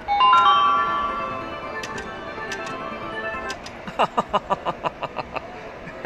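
High limit casino slot machine at the Borgata plays a chiming electronic tune, then spins with a quick run of evenly spaced clicking ticks as the reels stop, heard close and loud.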